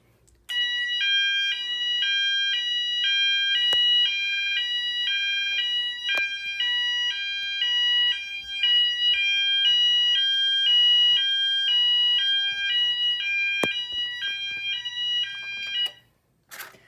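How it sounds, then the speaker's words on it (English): A fire alarm system activated from a pull station sounds a loud, close electronic alarm in a fast repeating warbling pattern that runs steadily for about fifteen seconds, broken by a few sharp clicks, then stops abruptly. "let's pull this again"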